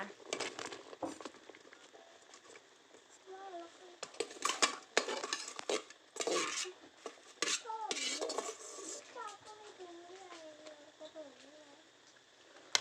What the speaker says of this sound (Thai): แล้วก็จะคนนะคะ